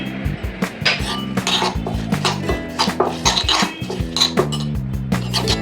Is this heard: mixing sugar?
yes